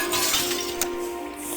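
Glass shattering in Zork: Grand Inquisitor, a sharp bright crash followed by a brief tinkling tail over a steady humming game background.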